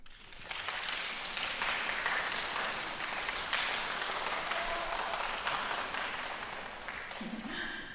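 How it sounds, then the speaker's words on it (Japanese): Sustained applause from a concert audience at an OMORI anniversary show in Japan, a dense steady wash of clapping that swells in within the first second and holds loud to the end. "今度はこちらから拍手を送りませんか？"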